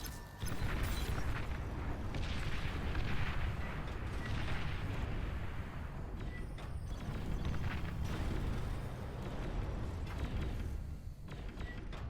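A bombing run in the strategy game Beyond All Reason unleashes a continuous rumble of layered explosions, dense low booms and crackling blasts at moderate loudness, sustained for the whole stretch with no voices.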